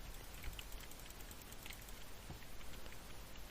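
Rain in the Roblox game Blox Fruits makes a soft, continuous patter, faint and steady, with scattered light drops and no talking.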